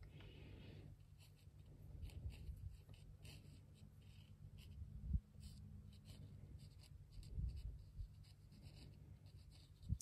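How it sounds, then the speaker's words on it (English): Soft pastel scumbled and shuffled along paper while painting a waterfall scene, a soft, continuous dry scratching with brief louder strokes, close up and without talk. "I'm virtually just shuffling my pastel along the paper"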